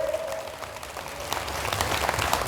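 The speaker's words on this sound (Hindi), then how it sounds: "जोर से ताली बजाइए आगरा पुलिस के लिए।" An audience claps for the police in a dense, continuous wave of applause that builds slightly toward the end, heard from a moderate distance with no talking.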